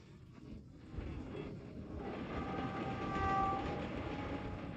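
A slow passenger train in China rumbles steadily past, a broad continuous roar that swells slightly, with faint high whines of wheels or a distant horn tone partway through.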